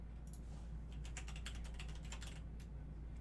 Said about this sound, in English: I'm typing in the wrong place.